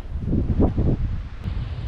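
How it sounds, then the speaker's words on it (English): Wind blows on an island shore, a loud, steady low rumble buffeting the microphone with a brief rustling swell partway through. "Oh, it's windy."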